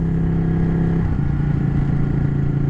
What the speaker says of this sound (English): this bike shifts weird. From first to second, if you use the clutch, there's a massive dead zone in the throttle